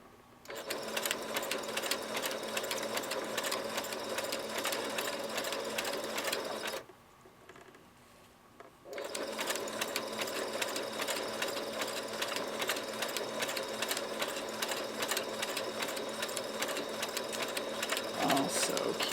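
A sewing machine stitching fabric ruffles runs at a steady, close whir, stops for about two seconds, then starts again and continues just as evenly to the end.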